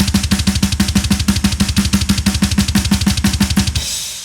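A bomb blast beat on a drum set: fast, even hits of kick, snare and cymbal in a driving pattern, loud and close, stopping abruptly near the end with a ringing cymbal tail.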